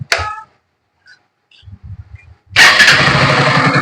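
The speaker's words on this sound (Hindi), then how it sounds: "अभी बाइक को हम लोग स्टार्ट करने वाला है" Bajaj Pulsar AS 150 motorcycle starting after engine repair in a workshop, with a few soft cranking sounds before the engine catches and settles into a loud, steady idle close by.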